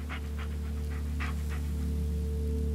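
A dog in the Blair Witch video game pants in quick, breathy bursts over a steady low droning game ambience, close by and with no speech.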